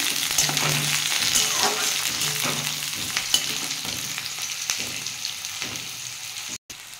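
Onions fry in oil for a radish-greens dish with a loud, steady sizzle and occasional stirring clatter, close up and free of speech, ending with a short dropout.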